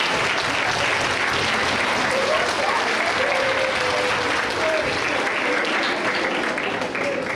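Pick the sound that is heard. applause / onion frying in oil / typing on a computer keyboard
applause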